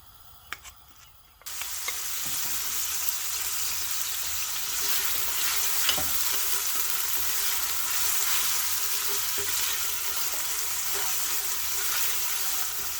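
A whole onion drops into three to four tablespoons of hot oil in a pan on a gas flame, setting off a loud, continuous sizzle and crackle that holds steadily to the end after a brief quiet start.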